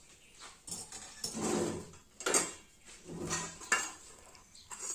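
Ground jackfruit pickle paste is scraped off a stone grinding slab into a bowl, a series of soft, close scraping and clinking strokes in an uneven rhythm, fairly quiet.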